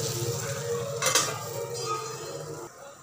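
Tomatoes and onions sautéing in a pan for mushroom gravy, with a soft sizzle, stirring scrapes and a brief metallic clink of a utensil against the pan near the middle, close and fairly quiet.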